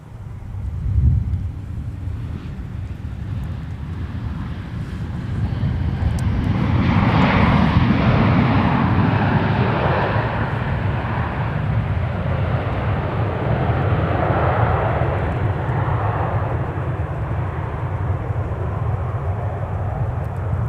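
A fixed-wing airliner arriving at Minneapolis–St. Paul Airport roars steadily and loudly for the whole stretch, its engine noise swelling toward the middle and staying strong, with some wind rumble and no talking.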